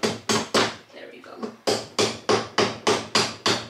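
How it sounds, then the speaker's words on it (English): A screwdriver handle is struck like a hammer against an IKEA PAX drawer fitting, about a dozen sharp knocks in a quick, fairly regular rhythm, loud and close, with a brief pause near the start. "I don't have a hammer, so I'm using a screwdriver as a hammer"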